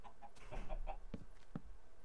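Chickens in Minecraft clucking close by, a quick run of several short, quiet clucks followed by a couple of sparser ones against a soft game background, with no one talking.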